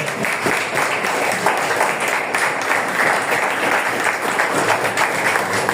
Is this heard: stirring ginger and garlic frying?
no